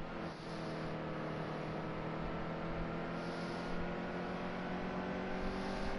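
Race cars in NASCAR Heat 2 at New Hampshire, Xfinity Series, with a steady high engine drone that swells slightly as cars run side by side, continuous and fairly faint, with no talk.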